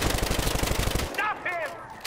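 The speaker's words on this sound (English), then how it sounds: "I'm shooting anything that moves here" Automatic gunfire in the shooter game Battlefield Hardline rattles in a fast, loud burst of rapid shots, then stops as a voice briefly talks.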